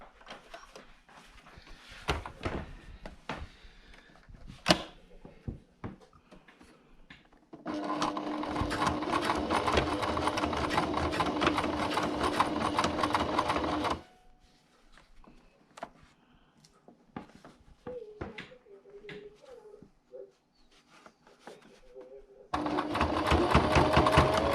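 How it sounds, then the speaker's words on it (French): A sewing machine stitches a protective face mask in bursts, running a few seconds forward and back, stopping, then starting again, close and loud between quieter pauses with small handling noises. "on fait un avant, un arrière en débutant la couture et un avant et arrière en terminant."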